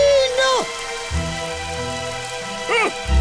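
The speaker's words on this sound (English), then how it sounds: "The rain!" Cartoon rain effect: a steady patter of falling rain runs through the clip, with brief swooping tonal sound effects and music-like harmonic lines layered above it.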